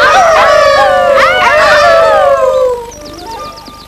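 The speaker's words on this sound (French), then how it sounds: "On dirait des aboiements." Small dog yipping and howling with rising and falling whimpering cries, loud and close, fading into faint high chirps at the end.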